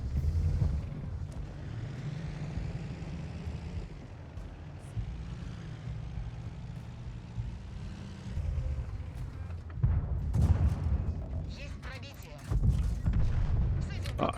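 A tank firing HE shells in World of Tanks, deep booming blasts and rumbling engine noise under someone talking, with heavier thuds bursting in near the end.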